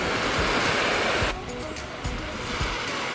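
Ocean surf rolls and crashes onto a beach in Cozumel, Mexico, a steady broadband wash with a few heavier wave hits, close and fairly loud, with no talk.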